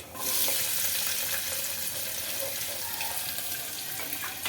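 Chopped onion pieces hit a hot pan for a bean curry and set off a loud, broad sizzle that stays fairly constant, with light stirring scrapes and no voices.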